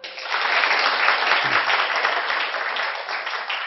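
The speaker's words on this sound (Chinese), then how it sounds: "给你掌声。" An audience in a choral singing and conducting class breaks into steady, dense applause for a singer, rising quickly and holding evenly for a few seconds.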